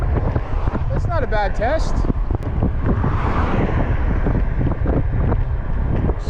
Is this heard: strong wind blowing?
yes